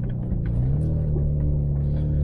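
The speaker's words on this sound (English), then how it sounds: "This is a 1997 Lexus LX450, basically an 80 series Land Cruiser." A 1997 Lexus LX450 SUV, an 80 series Land Cruiser, idles on a muddy trail after a storm with a steady low engine rumble, close and continuous.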